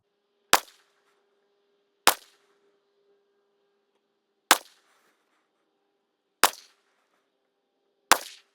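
Five sharp suppressed rifle shots from a POF Revolution firing Barnes Precision ammunition, spaced irregularly about two seconds apart, each a loud crack with a short tail against a quiet background with a faint steady hum.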